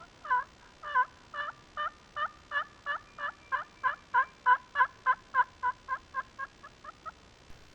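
A wild turkey gobbles in a fast, rolling series of about twenty pulsed notes that rise and then fade over several seconds, heard at moderate distance in open spring mountain country with no talk.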